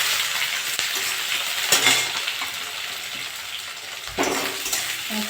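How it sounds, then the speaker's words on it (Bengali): Onions sizzle and fry steadily in hot mustard oil with dried red chillies and cumin, a continuous crackling hiss close by with brief stirring scrapes, no talking. "আমি এবার পেঁয়াজ দিয়ে দেবো।"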